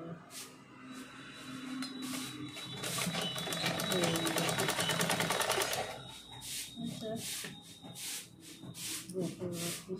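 Close, steady whirring of a sewing machine stitching a ready-made nightie, a fast even run of needle strokes in the middle with softer starts and stops around it, while someone speaks throughout.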